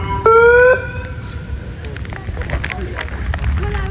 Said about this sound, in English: So at the sound of the siren, you begin.